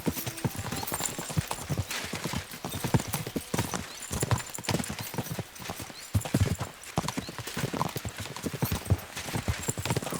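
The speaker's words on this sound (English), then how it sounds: "We should spur the horses on." Horses gallop in Kingdom Come: Deliverance II, hooves pounding in a rapid, uneven clip-clop rhythm with an occasional neigh, close and steady over ten seconds.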